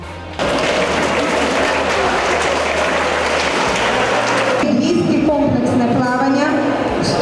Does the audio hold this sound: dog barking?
no